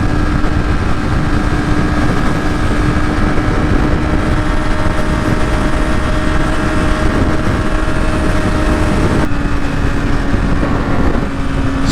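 A 2016 Yamaha R6 sport motorcycle being ridden: a loud, steady engine drone with wind rush runs continuously throughout, its pitch holding nearly constant with a slight shift late on, and no talking.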